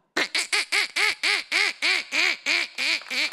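A man imitates a duck, letting out a quick series of about a dozen nasal quacks in an even rhythm, loud and close, with no other sound around them.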